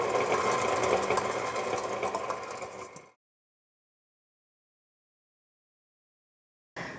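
An electric mixer whirs steadily through gluten free chocolate cake batter for about three seconds, then cuts out to silence before briefly starting up again.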